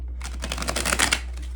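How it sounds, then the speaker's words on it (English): A deck of tarot cards being shuffled by hand, one short riffling burst of papery flutters, close and fairly loud, with no talk. "I'm going to shuffle these."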